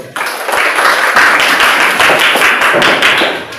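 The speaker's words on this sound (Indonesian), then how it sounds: "kita berikan aplaus untuk kelompok 1" A classroom group claps for a student team after its presentation, a loud dense burst of many hands applauding together, steady for several seconds before tapering slightly.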